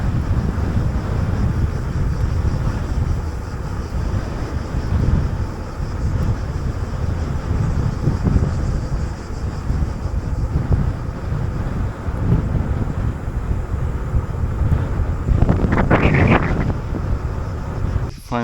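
Wind buffets the microphone on a Propain Ekano 2 AL aluminium mountain bike ride outdoors, a loud, steady low rumble that runs the whole time, with a brief brighter gust near the end.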